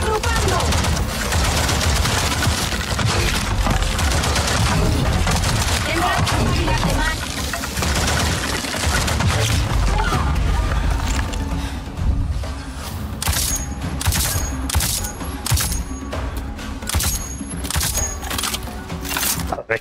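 Sustained gunfire in the video game Avatar Frontiers of Pandora, dense bursts and rapid shots over game effects, with a player's voice talking throughout and sharper clicking shots toward the end.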